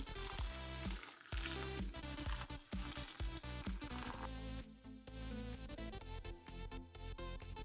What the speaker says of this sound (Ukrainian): Сік кипить у мене вже хвилин 10.